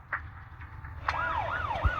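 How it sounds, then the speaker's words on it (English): A police car siren wails in the Zenless Zone Zero video game as the car hurtles down a street, its rising and falling tone starting about halfway through over a low rumbling background. "a PubSec car hurtles down the street, siren blaring"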